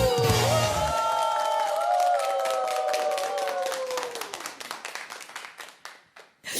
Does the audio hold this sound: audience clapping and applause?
yes